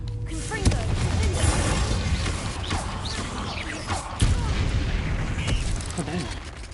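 Spell blasts and booming explosions from the Hogwarts Legacy video game, where a Confringo fire-blast spell is cast, go off in bursts amid crackling in-game combat noise and a player's shouting.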